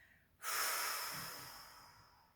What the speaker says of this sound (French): Et relâchez en soufflant bien fort par la bouche.